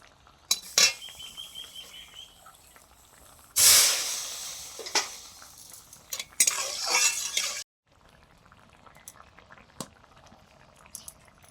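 Fish curry broth poured into a hot pan of falui fish and kohlrabi, a sudden loud hissing sizzle with clinks of utensils, fading to quiet bubbling afterward.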